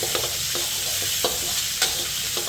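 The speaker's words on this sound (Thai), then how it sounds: "เราก็ผัดให้พริกแกงหอมนะครับ" Steady sizzling of curry paste stir-frying in a hot pan with repeated scraping stirs, close up, and no voices.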